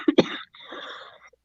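Two sharp, close coughs from a person with a lingering cough, followed by a breathy, throaty exhale, fairly quiet and alone.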